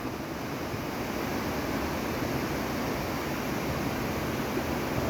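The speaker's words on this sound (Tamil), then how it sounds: "பார்க்குற இடம்லாம் அருவியாக தான் இருக்கு" A mountain stream and waterfall on Sivanolipatha Malai rush in a constant, loud, broadband roar that stays steady throughout, with no talking.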